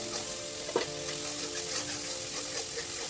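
Spice paste for a mutton curry frying in a pan, heard as a soft continuous sizzle with a faint steady hum behind it and one brief scrape of stirring, quiet and close, with no talking.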